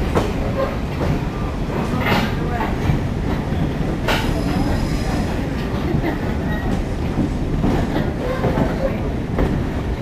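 A passenger train on the Oil Creek and Titusville Railroad rolls steadily along the tracks, with a constant low rumble, rhythmic wheel clatter and occasional high metallic squeals.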